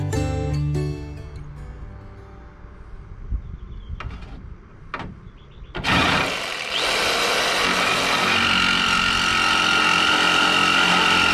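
A power tool bolts parts in place during a radiator install on an LS-swapped E46 BMW M3, with a few sharp knocks and clatter, then a loud continuous whirring run that lasts to the end.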